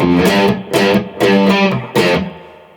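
Guitar plays a simplified version of the bass part from a song: four repeated punchy low note groups in a steady rhythm, with an effects-driven distorted tone, up close and alone.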